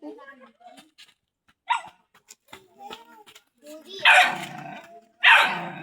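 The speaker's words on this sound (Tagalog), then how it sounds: "Galit yung aso." An angry dog gives scattered low growls and whines, then two loud, harsh barks close by, amid brief household sounds.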